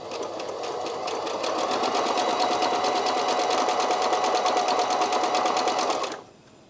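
A Brother My Star 3 sewing machine runs a dense satin stitch with a fast, even mechanical rattle up close, then stops abruptly near the end; nobody speaks.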